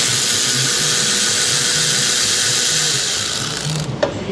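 A ratchet on an 8 mm wobble extension clicks steadily as it backs valve cover bolts out of a Ford 5.4 engine, with a continuous close mechanical chatter that ends in a brief clatter.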